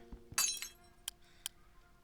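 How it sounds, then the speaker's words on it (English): A glass block breaks in the Minecraft modpack Craftoria: a quiet, brief tinkling shatter followed by two small clinks, with no talking. "you can break the glass and get him"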